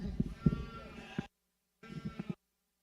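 Young ewes under six months old bleat at a county fair sheep show, several short close calls in quick succession, then a pause and another brief burst of bleating.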